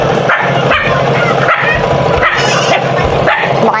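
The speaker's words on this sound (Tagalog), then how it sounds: "Mukha ni Bonching yung dating aso ni ate" A dog barks repeatedly in a loud, rhythmic series at a house in San Vicente, close and steady for a few seconds with no talk over it.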